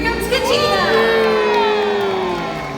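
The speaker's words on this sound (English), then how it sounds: "Let's give her a great big cheer." Crowd cheering and whooping at a SeaWorld orca show, a loud sustained roar of many voices with children's shouts rising over it, near and filling the whole stretch.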